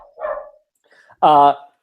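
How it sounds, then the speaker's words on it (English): A dog barks once, loud and close, during a podcast recording, following some quieter voice or whimper-like sounds a moment earlier. "So yeah, Craig can't control his dog during podcasts."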